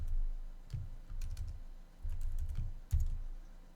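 Close, quiet clicking of keys on a computer keyboard as programming code is typed, short uneven bursts of keystrokes with small pauses between, no talking.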